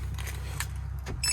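Car keys jangle briefly inside a 6.0 Powerstroke truck cab, a few light metallic clinks over a steady low engine idle hum.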